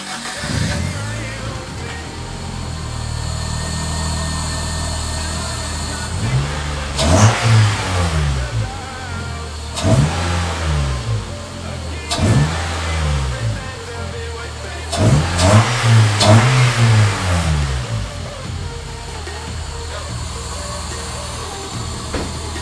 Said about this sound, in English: Sounds like it's working. That is the intake sound.